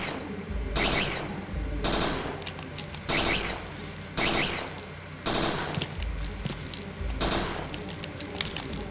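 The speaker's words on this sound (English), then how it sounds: "I'm going to try and shoot these guys conventionally" Repeated bursts of automatic gunfire from Parasite Eve 2, a PS1 game, come in rapid rhythmic volleys, each lasting about a second, with short gaps between, loud and continuous over background game ambience.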